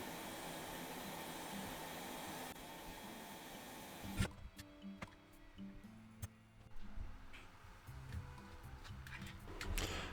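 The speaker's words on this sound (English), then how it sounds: "I use my hot air station on 100 degrees Celsius to heat up the sticker" A hot air rework station set to 100 °C blows steadily for about four seconds while warming a sticker on an Xbox wireless controller. The airflow then stops, leaving quiet handling clicks and small clatters.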